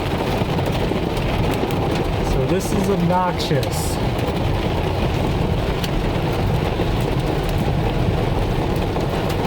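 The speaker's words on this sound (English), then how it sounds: "it's raining hard, and there was a bit of hail" Heavy rain with a bit of hail drums on a car roof and windshield, a dense steady roar, while a low thunder rumble rolls through midway and a person speaks briefly over it.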